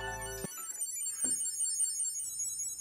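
Phone ringtone playing nearby while being located with an Ekster tracker card, a brief tonal ring followed by quieter melodic chimes that continue at moderate volume.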